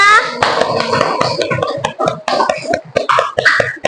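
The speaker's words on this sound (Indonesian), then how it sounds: "Yuk, sekarang tepuk tangan untuk kita semua." A burst of clapping from a classroom of children, close and lively, with children's voices and chatter mixed in.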